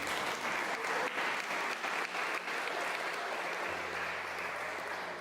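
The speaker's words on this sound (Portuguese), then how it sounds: "Você pode aplaudir o Senhor Jesus?" A church congregation applauds the Lord Jesus during a sermon, with sustained, fairly faint crowd clapping and a low hum that shifts partway through.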